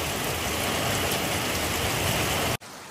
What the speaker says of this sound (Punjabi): ਯਕੀਨ ਕਰ ਬਹੁਤ ਤੇਜ਼ ਬਾਰਿਸ਼।